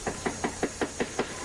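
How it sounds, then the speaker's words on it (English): Knocking on a house's front door, captured by a home security camera: seven evenly spaced raps in a steady rhythm over a faint background hiss, with no voices. "They knock on the front door,"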